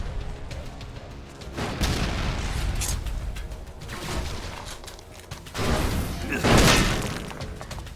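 Explosions in the video game ELEX II: several heavy booming, shattering blasts with crackling debris, the loudest swelling near the end, over a dense rumbling game backdrop with occasional talk.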